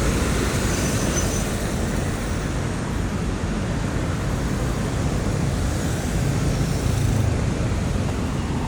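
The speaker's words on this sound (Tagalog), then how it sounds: "Oh, may MRT oh." An MRT train passes along a city street at night, a steady broad roar blended with road traffic, heard at a moderate distance with no voices.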